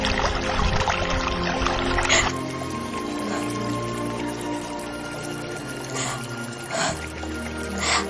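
River water flows as a continuous rushing wash in a radio drama, steady throughout with a few brief splashy bursts and low rumbling undertones.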